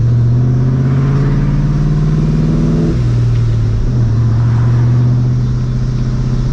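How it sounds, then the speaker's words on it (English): Vortech V1 Ti-Trim supercharger on a New Edge Mustang GT running rich, a loud steady engine drone with the blower's whine riding on top, pitch dipping slightly near the middle as revs shift, continuous throughout without voices. "I literally hear the blower going."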